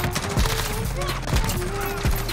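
Bursts of automatic fire from the Old Faithful M4A1 rifle in Call of Duty, rapid loud volleys repeating through the stretch, with faint voices mixed underneath.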